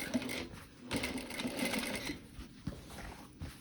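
A sewing machine stitches a seam on a pair of jeans, whirring in close, fast bursts with brief pauses and slight changes in speed.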